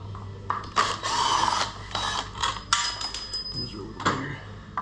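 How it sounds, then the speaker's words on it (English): Screws being backed out by hand during installation of a Screamin' Eagle air intake on a motorcycle, giving a series of close, brief ratcheting and metallic clicks with small taps and clatter in between. "A couple more screws to take out."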